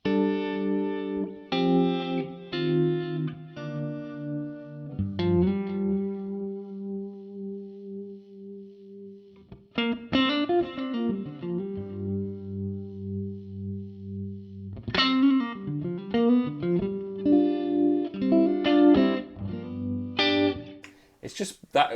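Electric guitar played through a Fender Super Amp 6G4 with a Rumble EVM speaker miked by a 4047, giving a darker tone; clear picked notes, chords and sustained bends in loose phrases, loud and close, with no talking.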